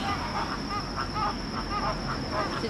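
Geese honk repeatedly in a loose chorus from a middle distance in Aranjuez, Spain, over a steady hiss of outdoor background noise.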